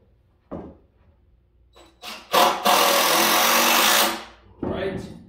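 A power drill pre-drilling a hole, a short burst and then a sustained loud whine lasting under two seconds, followed by another brief burst, close by, with some knocks and scattered movement between the runs.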